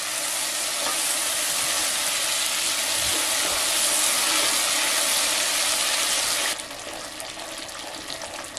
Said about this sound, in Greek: Ανακατεύουμε καλά μέχρι να λιώσει το βούτυρο.